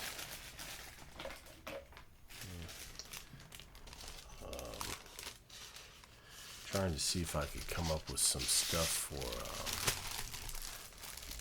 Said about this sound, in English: because I like the sound wax paper makes.